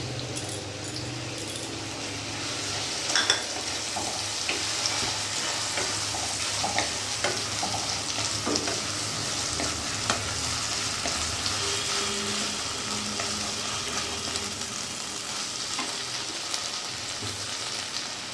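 Mustard paste frying in a pan with taro stolons over a medium flame, giving a continuous soft sizzle with occasional light stirring clinks and scrapes.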